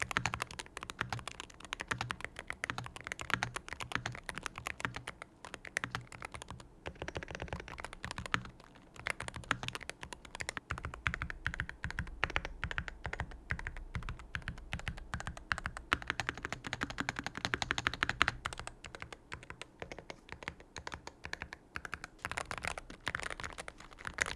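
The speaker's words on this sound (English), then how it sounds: "here's a quick sound test to give you a better idea of how this keyboard sounds" Continuous rapid clacking of keys on a Meletrix BOOG75 Hall effect mechanical keyboard, close and crisp, with an uneven rhythm of fast typing throughout.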